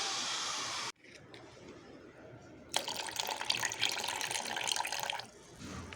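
Aloe vera, green chili and turmeric water being poured and mixed into a container, a steady splashing, trickling liquid that follows a brief pause, close and moderately loud before it tapers off.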